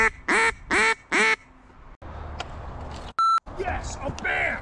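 Slayer duck call blown to bring in a mallard, three loud raspy quacks in quick succession, then low outdoor noise with a brief electronic beep and some faint voices.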